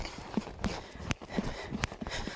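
A horse trots during a riding session, its hooves clip-clopping in a steady two-beat rhythm, moderately near with some background noise and no talk.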